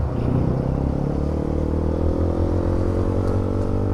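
A motorcycle riding on a highway, its engine droning steadily and loudly up close with a low rumbling hum and rising whine as it holds speed, no talking.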